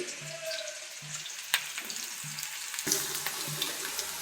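Egg curry with cut tomato simmering in oil in a pan, a soft, steady bubbling hiss with faint clinks and low repeated thuds, alone and fairly quiet.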